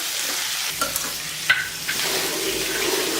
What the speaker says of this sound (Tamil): இதெல்லாம் நல்லா ஒன்றா கலந்து விட்டுக்கலாம்